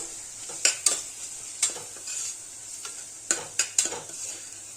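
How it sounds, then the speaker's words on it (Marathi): Fatty mutton keema sizzles in a little oil as it is sautéed in a pan, with sharp spatula scrapes and clinks against the pan coming in irregular bursts over a soft, steady frying hiss. "त्याला छान एक 2 ते 3 मिनिटं मस्त परतून घेऊ"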